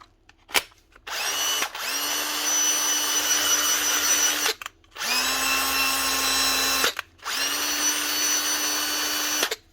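A repaired Bosch cordless drill with a resoldered broken wire runs in three sustained bursts of several seconds each, a loud, steady motor whine with short pauses and trigger clicks between runs, close up and without talk.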